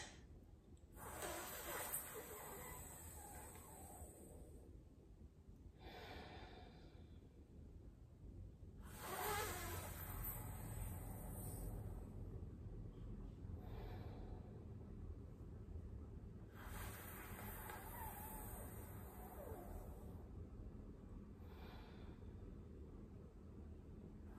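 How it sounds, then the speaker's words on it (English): A person demonstrates sitali cooling breath, drawing long, slow, close hissing breaths in through the mouth. The breaths come in bursts every few seconds, with quieter pauses between them against a low background hum. "So this is a very useful breathing practice."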